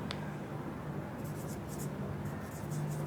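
Marker or chalk scratches across a classroom board in short, faint strokes over a steady hum of room noise.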